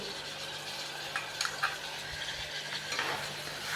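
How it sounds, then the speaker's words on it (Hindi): Finely chopped tomato and two or three chopped green chillies are stirred in a pan, producing soft scraping and a few light spoon clinks over a faint sizzle, with no voices. "अच्छे से मिक्स करेंगे।"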